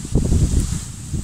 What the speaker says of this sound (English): As the wind's picking up a little bit now, may not be able to hear me very well